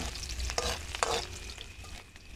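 Onion and garlic sauté in a pan at an outdoor cooking setup, giving a steady frying sizzle broken by a few quick scraping stirs, close and fairly quiet.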